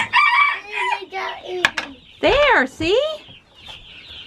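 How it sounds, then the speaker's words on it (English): Chickens cluck and a rooster crows on a homestead, the crow rising and falling twice in the second half, close and loud, with brief talk at the start. "All right, let's get our chickies fed."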